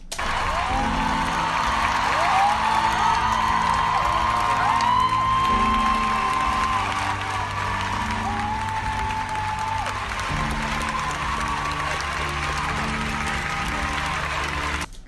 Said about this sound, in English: because they still clapping